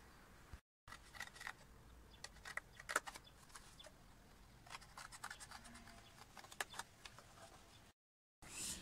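Scissors snipping through the flap of a juice carton being made into a coin purse, quiet irregular cuts and scratchy snips with brief pauses between strokes, close and faint, no voices.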